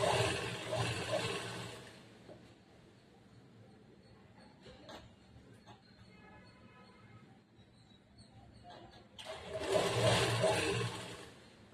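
A sewing machine stitches a churidar semi-Patiala pant in two loud, steady running bursts, one at the start and one near the end, with quiet handling and faint mechanical ticks between them.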